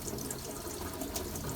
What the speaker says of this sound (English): Turn the tap on and swirl around